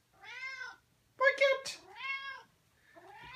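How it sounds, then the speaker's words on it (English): Male cat meowing repeatedly beside an automatic cat feeder, four drawn-out, insistent meows heard close and clear with short pauses between them. "He started to harangue the new kitty feeder when he wants food"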